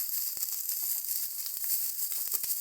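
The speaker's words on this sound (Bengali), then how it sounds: "ফুলকপিটা কিন্তু হালকা লাল লাল করে ভাজা হচ্ছে" Cauliflower florets frying in hot oil for a Bengali vegetable dal, giving a steady dense hiss of sizzling with faint crackles and occasional soft ticks, with no voices.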